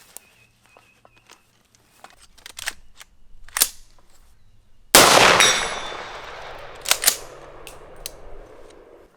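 A Wedgetail MPR Mini 300 Blackout rifle fires one loud, sharp shot on an outdoor hunting range, with a long ringing tail. Softer clicks and handling noises come before it and a few knocks follow.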